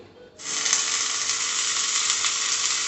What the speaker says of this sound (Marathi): हे बटाट्याचे स्लायसेस जे आहे ते मिडियम टू लो फ्लेमवर आपल्याला शॅलो फ्राय करून घ्यायचे